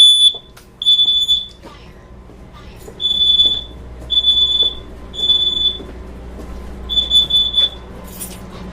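A smoke alarm emits repeated shrill, high-pitched beeps in short bursts, with irregular gaps between them, loud and close over a low background hum.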